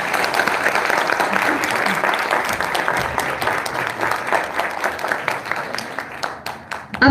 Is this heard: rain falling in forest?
no